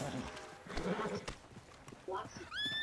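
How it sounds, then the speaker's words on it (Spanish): A horse in the video game Red Dead Online trots with rhythmic hoof clip-clops, then gives a short whinny near the end, faint beneath game audio. "Tío, tienes un caballo de puta madre."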